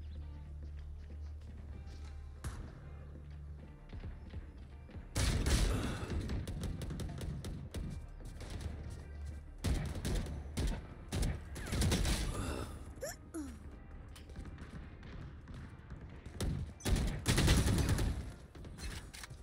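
Gunfire in a video game deathmatch, bursts of rapid shots starting after a quiet opening, loud and dense, with a few heavier volleys toward the end.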